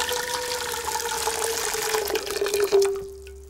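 A tap fills a huge pan with water for pasta, a steady close stream whose pitch rises as the pan fills, then cuts off abruptly with a few drips near the end.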